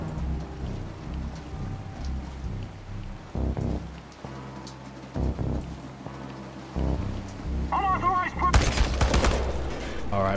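Gunfire from the video game Chernobylite, firing in loud bursts among other game sounds and rumbling ambience, ending in a dense burst near the close.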